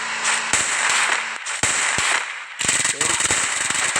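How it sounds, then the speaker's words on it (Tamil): Video game gunfire rattles out in rapid bursts of sharp, crackling shots, with brief pauses between volleys, loud and near over a steady game background hum. "இந்த கன்னு சவுண்டை கேட்டால எனக்கு அப்படியே ஒரு இரிட்டட் ஆகுங்க"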